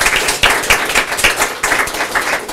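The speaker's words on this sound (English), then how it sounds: "Let's give her a round of applause." Applause from a council meeting audience honoring a city employee, a steady wash of many hands clapping throughout at moderate loudness, with no speech over it.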